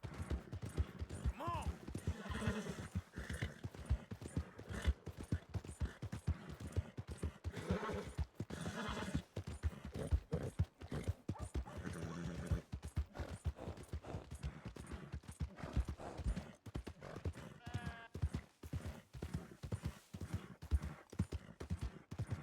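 Horse hooves gallop in a steady, continuous clip-clop through Red Dead Redemption 2 gameplay, running the whole stretch under busy game sound, with a brief neigh and someone talking intermittently.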